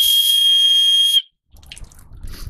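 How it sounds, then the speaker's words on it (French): A whistle built into a survival knife gives one loud, sustained shrill blast lasting about a second, close up. It cuts off to a brief silence, then soft rustling and handling noise follows. "Il fait sifflet également."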